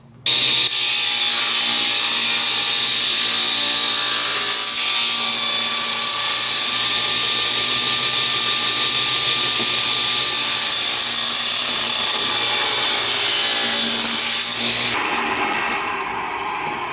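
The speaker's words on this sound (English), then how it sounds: "We'll do a little cutting on the table saw, do some straight cuts" A table saw cuts cedar boards for a goat stand, a loud sustained whining roar with a steady buzzing drone under it, which winds down near the end.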